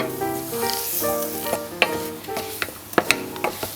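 Butter and flour roux sizzles in a pan for a lasagne while being stirred, with soft continuous frying hiss, scattered scraping clicks of the utensil and a faint background tone, close and moderately quiet.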